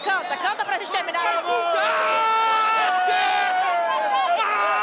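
Aster Itaquá supporters chant together at a football stadium during a youth cup quarter-final, a dense sustained wall of many voices singing in unison, loud and close, with a few scattered shouts at the start before the chant swells.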